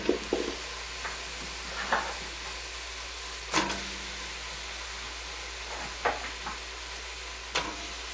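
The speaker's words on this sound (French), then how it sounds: "après avoir fait fondre notre beurre dans notre chaudron, et bien on ajoute les pommes" Apples cooking in melted butter in a pot, a quiet low sizzle with occasional stirring scrapes and clicks spaced a second or two apart, no voices.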